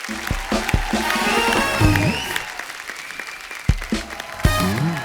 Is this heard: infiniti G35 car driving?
no